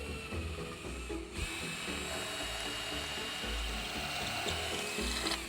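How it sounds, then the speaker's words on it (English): A hammer drill fitted with a masonry bit bores into a brick wall, giving a steady, loud grinding whir that runs continuously from start to finish. "this is actually the masonry bit that'll go into the wall"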